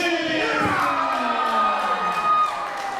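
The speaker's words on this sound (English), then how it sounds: "the crowd showing, and you can hear them approving of Bentley" Boxing crowd cheering for the Blackburn heavyweight Bentley, a steady roar of voices with whoops and shouts rising and falling across the arena, loud and sustained throughout.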